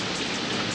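Steady rain pours down across the Ngorongoro crater floor in Tanzania, a dense, even hiss of drops with no pauses and no other sounds.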